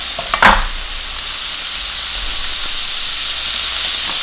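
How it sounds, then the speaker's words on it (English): Butter sizzles in a hot pan where chicken is cooking, a loud continuous hiss with a short knock at the start, steady throughout and free of talk. "I'm just gonna add in some butter."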